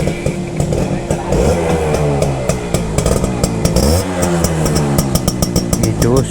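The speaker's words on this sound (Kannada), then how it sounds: "80 ಸ್ಟಾರ್ಟ್ ಮಾಡಿ ಒಂದ್ಸತಿ ನೋಡೋಣ. ಇದು ಸೌಂಡ್ ಹೆಂಗಿದೆ ನೋಡೋಣ." A stock vintage Kawasaki AX100 two-stroke motorcycle with a 100cc engine runs close by, its buzzy, rattling exhaust note rising and falling through steady revs with sharp ticks throughout.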